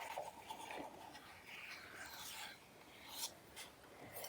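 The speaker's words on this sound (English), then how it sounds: "You can also use your knife to scrape along the board" A knife blade scrapes along a cutting board to clear off small bits during rainbow piñata cake preparation, a few soft, quiet rasping strokes close by with no talking.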